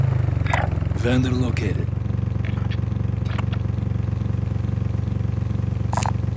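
A vehicle engine in Call of Duty Warzone drones at a steady, pulsing idle-like hum throughout, joined by brief clicks and chirps of game effects while voices speak over it.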